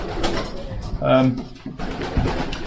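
A racing pigeon gives a short, low coo close by in a small English loft, with a person talking and some clattering around it.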